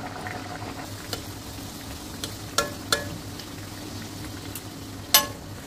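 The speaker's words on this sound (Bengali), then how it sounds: "একে একে রাধা বল্লভীগুলো ছেড়ে নেব, আর এই তেলটাকে আমি মিডিয়াম টু স্লো আঁচে ভেজে নেব ভালোভাবে" Radhaballavi, urad dal stuffed puris, deep-fry in hot white oil over medium-low heat, a soft steady sizzle punctuated by a handful of sharp clicks and taps from the utensil.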